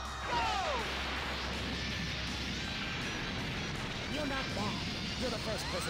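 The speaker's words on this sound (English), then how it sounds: "Alright, so this is the first spirit bomb." Goku's Spirit Bomb ultimate attack in Dragon Ball Raging Blast 2, a dense, sustained rumble of crashing energy and whooshing blasts with sweeping tones, loud and continuous throughout with a voice briefly over it.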